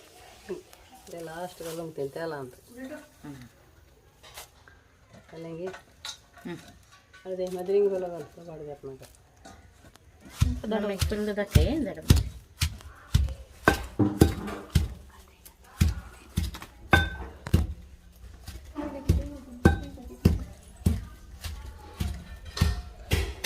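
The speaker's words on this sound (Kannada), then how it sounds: "ಫಸ್ಟಿಗೆ ಇದನ್ನೆಲ್ಲ ನಾವು ಕಲ್ಲಲ್ಲಿ ಹಾಕಿ ಸ್ವಲ್ಪ ಜಜ್ಜಿ ಆಮೇಲೆ ಆಯಿಲ್ಗೆ ಹಾಕ್ತೀವಿ" Herbs for homemade hair oil are crushed on a grinding stone with a rapid series of sharp thuds and knocks that start partway through, preceded and overlapped by someone talking.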